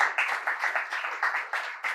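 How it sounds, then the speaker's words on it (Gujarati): Audience clapping for two speakers at a book-introduction talk, a steady, moderately distant patter of hands for a couple of seconds with no voices. "બંને વક્તાઓનું ખૂબ તાળીથી અભિવાદન કરીશું"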